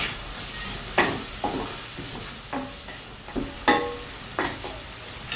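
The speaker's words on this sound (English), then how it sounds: "Add the scallion, ginger, and garlic. Sauté until aromatic." Scallion, ginger and garlic sauté in a hot pan for Chinese pepper steak, sizzling steadily close up while a spatula scrapes and stirs in repeated sharp strokes roughly every second.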